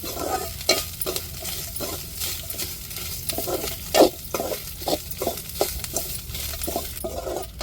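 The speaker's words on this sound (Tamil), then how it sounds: "நல்லா தேங்காய் வத்தல் மல்லி வெள்ளைப்பூண்டு நல்லா வதங்கணுங்க" Grated coconut, dried red chillies, coriander seeds and garlic being sautéed and stirred in a pan, a steady sizzle broken by repeated scraping strokes of a spoon, close and fairly loud.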